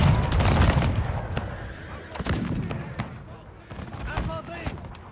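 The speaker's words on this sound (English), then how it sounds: "Okay, so this unit has started to fire." Musket volleys crackle in the strategy game Rise of Empires during a France versus England battle, several sharp scattered shots at moderate distance, with a commentator talking over them.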